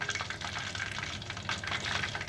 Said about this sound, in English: And then I'm going to fry them one more time